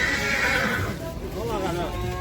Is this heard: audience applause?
no